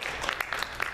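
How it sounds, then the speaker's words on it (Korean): A church congregation claps in thanks during a Sunday worship service, a brief burst of indoor applause with a few sharper claps standing out. "우리 감사의 박수 감사합니다."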